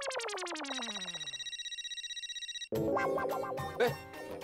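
A bright electronic ringtone plays close by, a rapid falling arpeggio followed by a sustained warbling tone, then cut off abruptly by a burst of music.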